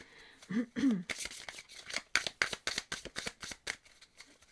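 Tarot and Lenormand cards being shuffled by hand at close range, a quick run of crisp riffling and slapping card sounds in a quiet room, soft and intimate.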